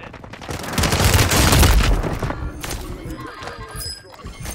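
Rapid bursts of automatic gunfire crackle through a Call of Duty Warzone firefight, loudest early on, then thinning into scattered shots and game noise with a voice speaking over it.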